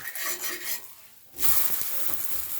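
Gola roti, a Bengali batter flatbread, being turned over in a hot pan: a soft scrape and rub, then a brief lull followed by a louder burst of sizzling that continues close up, with no talking.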